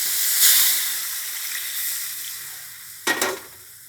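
Green curry paste sizzling and hissing as it is stir-fried for a Thai green chicken curry, a steady close frying hiss with a louder burst near the end as coconut milk is poured in.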